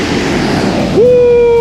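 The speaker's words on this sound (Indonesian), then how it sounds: "Baru gue bilang gue mau menikmati air laut, tiba-tiba airnya ke gua." Sea waves surge onto a beach near Jogja in a brief, loud, rushing wash of surf, cut off by a sudden steady tone.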